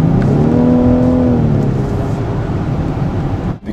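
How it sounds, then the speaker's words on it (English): The 12-cylinder engine exhaust of a 2014 Rolls-Royce Wraith, heard from inside the cabin, roars loudly and evenly, a deep rising drone that fades slightly before cutting off abruptly. "a little bit of exhaust note to come into the cabin"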